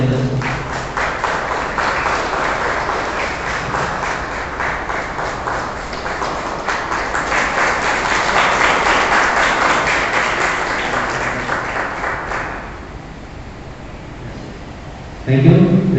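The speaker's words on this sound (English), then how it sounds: "I request all of you to stand and give a big applause and welcome our Royal Ministers." A church congregation at a month's mind memorial Mass breaks into loud, sustained applause to welcome ministers, the dense clapping filling the room for about twelve seconds before tapering off into quieter murmur and a brief final burst.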